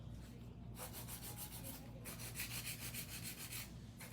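A file rasps against an acrylic nail in quick, repeated back-and-forth strokes, close and soft, with brief pauses between bursts.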